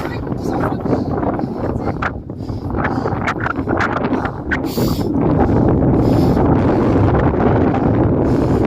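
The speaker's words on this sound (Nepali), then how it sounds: "ल यस्तो हावा चले है यस्तो चिसो छ" Strong cold wind gusts across the Soibing ridge on the Sailung trek in Dolakha, Nepal, roaring steadily against the microphone and building louder toward the end, with a voice faintly beneath it.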